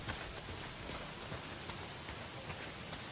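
Heavy rain pours down in the video game Days Gone, a dense, even hiss of droplets on surfaces that holds steady without letup, with no talking over it.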